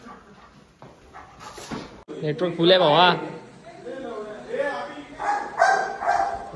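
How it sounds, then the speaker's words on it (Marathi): A dog arriving at a farmhouse gives excited whimpers and a few short barks up close, mixed in with steady talk from several people. "ही कुत्री आली"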